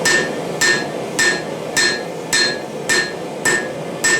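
A hammer forging a knife blade on an anvil, eight loud, evenly spaced metallic strikes with a bright ringing tone, close up and with no talking.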